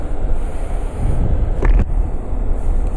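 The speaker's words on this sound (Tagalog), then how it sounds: "sobrang lakas po ng alon ngayon." Strong sea waves at a beach resort in Dilasag, Aurora, a constant loud roar of surf with heavy low rumble and wind buffeting the microphone, no voices.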